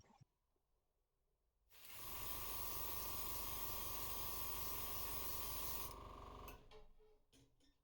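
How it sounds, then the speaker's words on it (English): Orange spray paint hisses through a stencil onto the fin base of a handmade crankbait lure. One continuous, close, loud spray burst lasts about four seconds, with quiet handling sounds before and after. "With the same orange we used before and the help of the stencil, I'll spray on the base for the fins."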